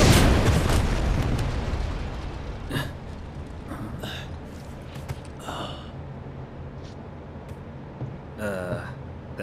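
A bomb exploding at a reactor in the video game Final Fantasy VII Rebirth, a loud rumbling blast at the start that fades into a lingering roar, followed by breathy gasps and short vocal sounds.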